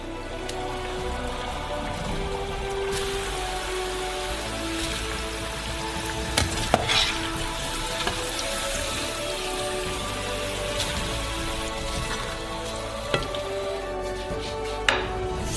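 Potatoes deep-frying in a large batch of oil heated to 170 degrees, a steady dense sizzle and bubbling hiss that holds evenly throughout, with a few small pops and clicks near the end.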